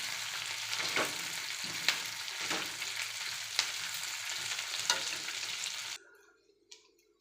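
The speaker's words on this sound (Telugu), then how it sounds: "ఆయిల్లోనే ఫ్రై చేసుకోవాలండి, అప్పుడు మనకి టేస్ట్గా ఉంటుంది." Curry leaves frying in hot oil give a dense, close sizzle with sharp stirring scrapes about every second, then the sizzle drops away abruptly, leaving near silence and one faint clink.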